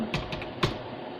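Keys clatter on a computer keyboard while text is typed into an Excel spreadsheet, a few quick close clicks in short bursts with a louder keystroke near the end, no voices.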